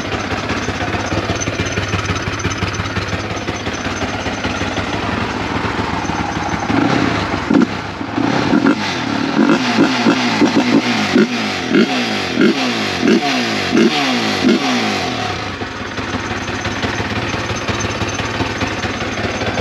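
A Yamaha Y15 motorcycle with an upgraded 72 mm engine idles steadily up close, then revs in a series of sharp rising-and-falling throttle blips before settling back to idle.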